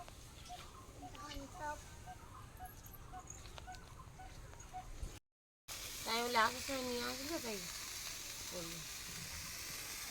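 Food sizzles steadily in pans on a twin-burner gas stove, a continuous close hiss with a brief dropout midway, while chicken-like clucks and bird calls sound nearby.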